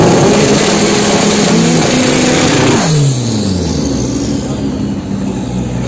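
A drag racing car at a NoPrep Kings event at Tarumã revs hard on the track, a loud, close engine roar with rising and falling pitch that drops back partway through, with a voice speaking over it.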